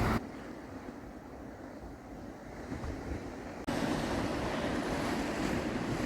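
Sea waves wash against the shore at Cap Martin on the French Riviera, a loud steady rush with wind buffeting close by, the surge swelling abruptly midway.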